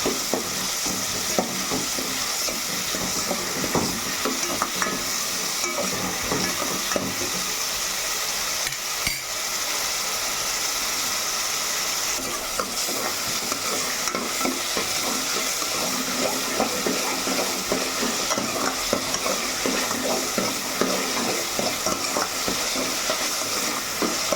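Onions with a little salt fry in a pan, a continuous close sizzle under busy, rhythmic scraping and clattering of a spoon stirring against the metal, with no one speaking.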